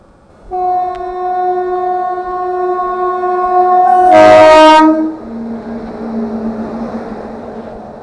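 The 22437 Prayagraj–Anand Vihar Humsafar Express passes at Subedarganj, its horn sounding a long steady tone that swells into a loud burst before cutting off, over the continuous rumble of rolling coaches.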